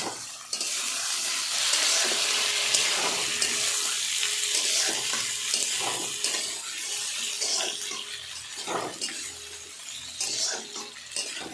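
Potatoes frying in a pan with chopped tomatoes and green chillies added, producing a steady bright sizzle and hiss with intermittent stirring scrapes, close and continuous throughout.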